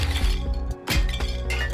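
Hammer smashing objects in a video game, giving sharp glassy clinks and breaking crashes in quick repeated bursts, loud and close with no talk.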